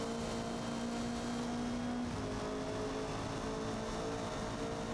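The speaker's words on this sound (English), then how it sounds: "It sounds like a 1 litre tin can, you know, with ball bearings as exhaust baffles." A Hyundai car engine in the Forza Motorsport racing game drones steadily, a thin, buzzy exhaust note holding an even pitch throughout with no voices.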